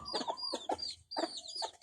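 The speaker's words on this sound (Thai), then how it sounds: "ไก่เชื้อพันธุ์ดีนี่ ไก่พันธุ์ดี" A well-bred chicken clucks close by in short, quick bursts, a few sharp calls with brief pauses between them and no talk.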